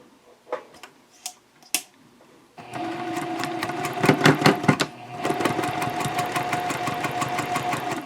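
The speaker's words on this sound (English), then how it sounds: "Now I'll start sewing that first seam" A sewing machine stitching the first seam of a fabric shopping bag: a few soft clicks, then a steady close mechanical whir with rapid ticking needle strokes, pausing briefly before running on.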